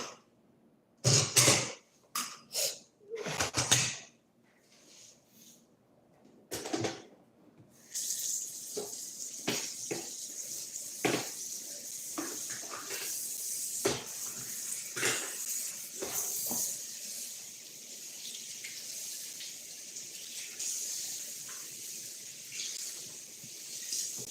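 Tap water runs to fill a jug at a sink, starting with a few sharp splashes and clatters, then settling into a steady hissing stream with occasional knocks, close and alone.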